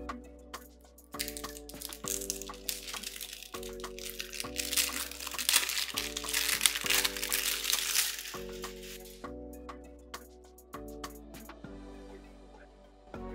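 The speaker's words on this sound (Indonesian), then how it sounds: "Mari kita langsung unboxing." Packaging for an Advan G5 phone crinkles and rustles through an unboxing, with crackly plastic handling over a looping background music track.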